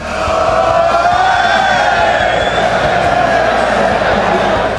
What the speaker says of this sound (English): It's so nice to be in a full arena and see all those people that are cheering for the same thing